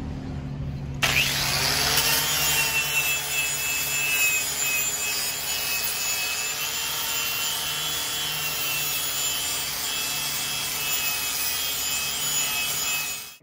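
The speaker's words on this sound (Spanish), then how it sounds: "yo voy a usar mi pulidora con la carda" An angle grinder fitted with a wire brush polishes metal parts of a TRX400 ATV exhaust and intake project, starting abruptly and then holding a loud, steady, harsh whine throughout.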